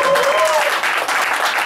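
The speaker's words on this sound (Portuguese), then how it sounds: "Uma salva de palmas para você." A party crowd at a surprise birthday celebration for a husband in Mooca claps loudly and continuously, with a brief whistle near the start and voices mixed in.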